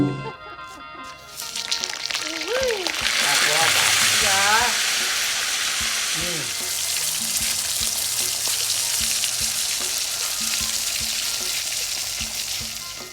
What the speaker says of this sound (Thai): อันทอดปลาทูเค็ม